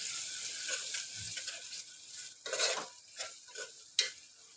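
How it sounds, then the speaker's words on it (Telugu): Ginger paste fries in a pan for a mutton curry with a soft, faint sizzle, broken by several sharp scrapes and clicks as a spoon stirs it. "సో ఇది కొంచెం అంటే కొంచెం ఫ్రై అయితే చేసుకోవాలి. కొంచెం మంచిగా ఫ్రై అయితే అవ్వాలి."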